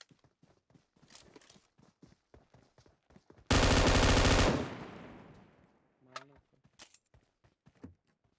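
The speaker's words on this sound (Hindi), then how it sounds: "उस बंदे को भी पटाख से एक शॉट स्नाइपर का बनता है" A sniper rifle fires once in a video game, a single loud, sharp blast with a long decaying tail, set among faint clicks and light game sounds before and after.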